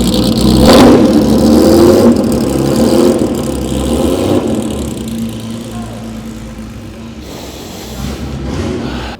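A loud rally car engine revs hard, then settles into a rough, throaty idle before picking up again, close by with no talking.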